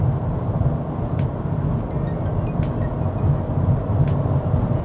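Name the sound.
Volkswagen Golf TDI diesel engine accelerating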